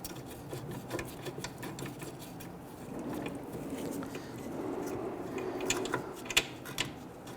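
A ratchet clicks fast and steadily as it starts a brake caliper bracket bolt on the rear brakes of a 2006-2012 Toyota RAV4, heard up close with a few louder clanks near the end.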